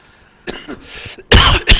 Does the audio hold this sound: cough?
yes